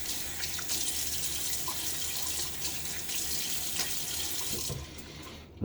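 Tap water runs into a sink as a face is wetted before shaving, a loud, close, steady rushing hiss that stops abruptly near the end, with no talking.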